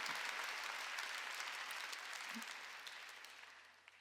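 Congregation applauding during a Wednesday church worship service, a thick, continuous patter of many hands at full strength from the start that gradually thins and fades toward the end, with a faint brief voice sound near the middle.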